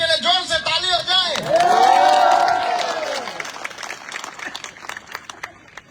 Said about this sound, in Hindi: ACF के लिए जोर से ताली हो जाए।